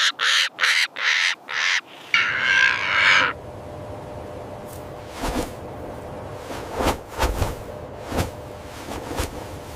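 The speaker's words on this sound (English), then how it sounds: "the watchful crow waits patiently on the opposing cliff" A crow calls in a canyon, giving a series of five or six sharp, loud caws at the start, followed by a brief rushing sound and then scattered fainter calls across a quiet open background.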